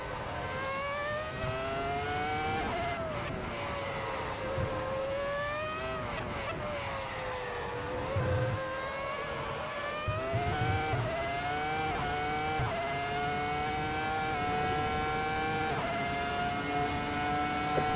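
Ferrari F2004 Formula One car on slick tyres in Assetto Corsa, its high-revving engine screaming continuously through repeated upshifts and downshifts, rising and dropping in pitch, loud and close for the whole stretch with no talk.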